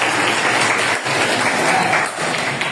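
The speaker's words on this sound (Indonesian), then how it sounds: "Oke, tepuk tangan untuk" A classroom of students applauding in a religious education lesson: dense, continuous clapping from many hands, loud and close, with a brief dip partway through.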